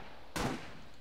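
A single M1 Garand rifle shot fires in Red Orchestra 2, one short, punchy crack at moderate loudness over steady low background noise.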